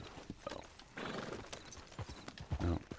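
Horse hooves clip-clop in the Red Dead Online video game, a quick uneven run of close hoofbeats with a snort and whinny mixed in and game background noise beneath.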